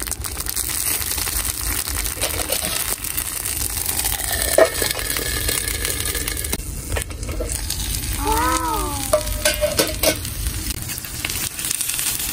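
Cod sizzling on a hot stone slab at an outdoor grill with sake poured over, a loud continuous crackling sizzle with brief squeaks and scraping sounds over the top.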